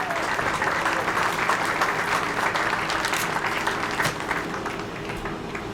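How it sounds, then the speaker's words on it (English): Audience at a high school athletic awards ceremony applauds a girls cross country team and coach, a sustained, even wash of many hands clapping in a large room, moderately loud throughout. "Let's give a nice round of applause for Coach Millette and the 2020 girls cross country team."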